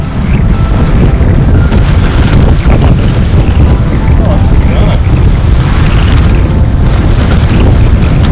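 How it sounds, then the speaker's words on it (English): Strong onshore wind buffets across an open beach with loud, steady roaring gusts and microphone rumble throughout, and the surf faintly underneath. "you can clearly see the wind is blowing onshore"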